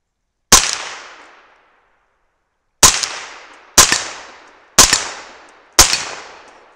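Five sharp 300 Blackout rifle shots fired with powder-coated bullets at a steel plate, each crack followed by a decaying ring, the first one alone and then four coming in quicker succession about a second apart.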